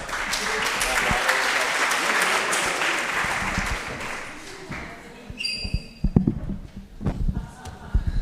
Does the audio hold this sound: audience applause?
yes